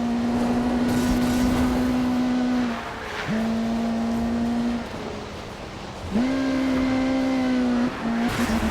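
A Ferrari's engine roars in the Need for Speed Rivals racing game, a loud steady drone that holds pitch, dips briefly around a gear change, then climbs back up; no voices.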